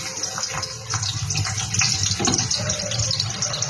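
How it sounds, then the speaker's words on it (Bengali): Onion dropped into hot oil for egg chow mein, giving a loud, close, continuous sizzle with crackling bursts throughout. "তেলটা কিন্তু গরম হয়ে গেছে আমি আগে পেঁয়াজটা দিয়ে দেবো"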